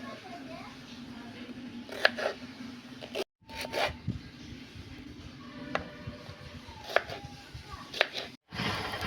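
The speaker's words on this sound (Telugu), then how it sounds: "క్యాప్సికమ్ని క్యూబ్స్గా కట్ చేసుకోవాలి." A knife cuts capsicum into cubes on a board, giving scattered dull chops and scraping strokes with short pauses between them, under a voice talking at the same time.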